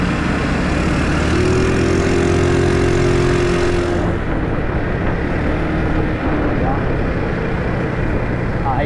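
A motorcycle engine runs steadily close by, a constant mid-pitched drone with a rising whine partway through, heard alongside road noise.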